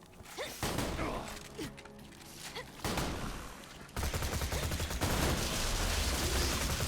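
Gunfire bursts in Borderlands 2, rapid volleys of shots with mechanical clatter, growing louder and denser in the latter half of the clip.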